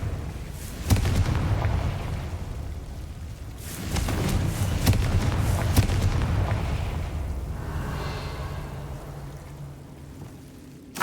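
A Confringo blasting spell from the Hogwarts Legacy video game bursts with sharp cracks and booming, rumbling explosions, several hits clustered near the middle, then dies down to a fading roar.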